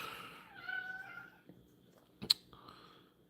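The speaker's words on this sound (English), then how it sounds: "you're gonna have to endure the cat noises now because I can't let her outside" A cat meows indoors in a quiet room, with two drawn-out, rising meows near the start, followed by a sharp click or tap and a faint further murmur.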